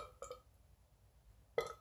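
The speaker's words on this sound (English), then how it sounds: "Sometimes the burps come out natural, but they're not nearly as powerful." A man burps twice, a short burp near the start and a louder, deeper one at the end, with a quiet gap between them.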